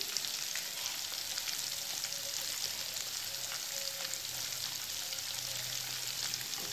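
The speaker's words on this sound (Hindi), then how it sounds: "ये देखिए फ्रेंड्स, हमारे कोफ्ते फ्राई हो रहे हैं। फ्लेम मैंने बिल्कुल लो कर रखी है," Malai kofta balls frying in oil over a low flame, giving a steady, even sizzle with soft crackles and pops that runs unbroken and close by, with no talk.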